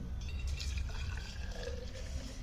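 Hot water pours into a touch-screen temperature-display bottle in a brief, steady, close gushing stream that fills the bottle, with no voices.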